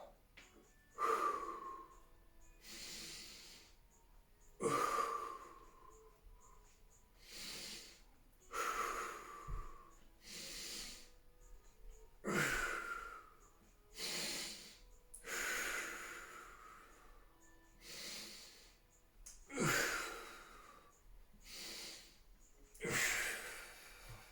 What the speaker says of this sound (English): You can follow along with my breathing as well.